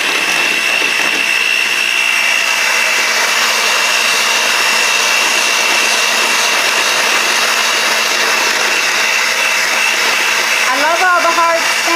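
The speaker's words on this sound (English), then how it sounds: "This is going to be the lowest speed of my hand mixer." A handheld kitchen mixer runs on its lowest speed while mixing edible lace, a steady close whir droning without pause.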